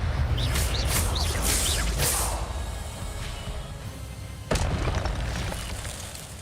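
Incendio and Expelliarmus spells are cast in a wizard video game: a rapid series of bright whooshing bursts and crackles, then a sudden loud blast, with lingering fiery rumble between hits.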